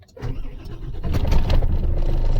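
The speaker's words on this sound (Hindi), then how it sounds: "एक बार हम गाड़ी स्टार्ट करके देखते हैं" An Isuzu Forward truck with a crankshaft position sensor fault cranks and catches, its diesel engine rising into a steady, loud running rumble close by.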